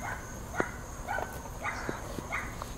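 A dog barks several times in the distance, the short barks faint and spread out over a quiet outdoor background, followed by a sharp close thump at the end.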